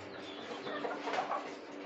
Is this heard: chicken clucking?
yes